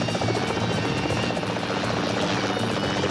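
A police helicopter flies past on a pursuit near a canyon road close to the border, its loud, steady rotor chop and engine roar filling the whole stretch without letup.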